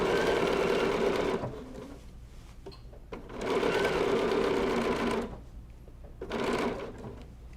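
A sewing machine stitching quilt binding on a table runner hums in three steady bursts of different lengths, close by, with quiet pauses between them.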